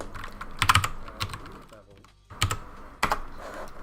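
Keys clatter on a small Royal Kludge computer keyboard in short bursts of quick presses separated by pauses, close and moderately loud, with faint background voice.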